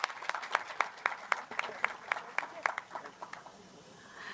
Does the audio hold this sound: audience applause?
yes